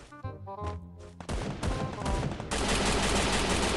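Gunfire in the battle-royale game Free Fire: a few sharp shots open, then a dense burst of rapid automatic fire builds into sustained, loud shooting close by, with no talk.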